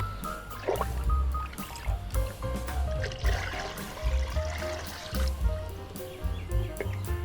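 Liquid garden fertilizer being mixed in a bucket makes soft, close sloshing and dribbling sounds in irregular pulses, fairly quiet with no voices.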